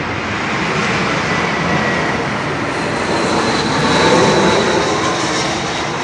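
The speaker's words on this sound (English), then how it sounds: "I got a jet coming, so hold 1 second, please." A jet aircraft passes overhead during an outdoor workshop session on a Mercruiser MKIV 454 marine engine. Its loud, steady, broadband roar fills the whole stretch and swells slightly toward the end, with no talking.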